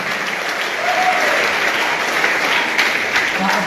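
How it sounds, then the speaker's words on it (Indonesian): An audience at a health and wellness training seminar claps steadily, dense applause sustained at even loudness across the whole stretch with no talk over it. "Berikan aplaus yang meriah"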